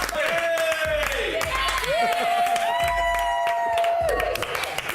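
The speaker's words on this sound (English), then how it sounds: "Big round of applause." Clapping and cheering from a live studio audience at a reality-show eviction night sit under loud theme music with sustained tones and a thumping beat, shouts rising through the mix.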